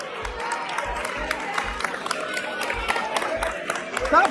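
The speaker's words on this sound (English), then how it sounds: "Stop clapping." An audience clapping in a dense, steady patter of hand claps that runs throughout, mixed with crowd murmur and voices, with a low rhythmic thumping underneath.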